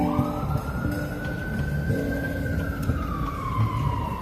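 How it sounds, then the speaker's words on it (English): Ambulance siren on a New York City street, a long rising and falling wail sweeping past over busy traffic rumble, fairly loud and steady throughout. "I think that's my ambulance."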